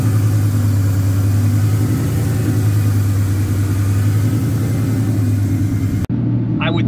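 The engine of a 2003 Ford Mustang Cobra fitted with a lower pulley runs with a loud, steady, deep drone and a faint whine, heard from inside the car before an abrupt click changes the sound near the end.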